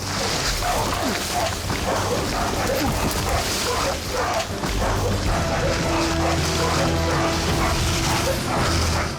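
Several hunting dogs bark and yip outdoors on a mountainside during a wild boar hunt, in quick, irregular bursts, with rustling and movement around them.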